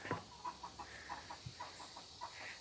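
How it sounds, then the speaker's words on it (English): Chickens in a backyard garden compound cluck faintly in the background, giving a few soft, scattered calls over quiet outdoor ambience. "You hear the chickens in the background."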